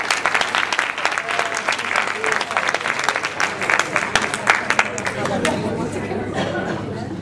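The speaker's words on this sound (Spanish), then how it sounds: "un fuerte aplauso para el ganador" Audience applauding a prize winner at a manga convention awards ceremony, dense steady clapping with crowd chatter underneath, thinning toward the end.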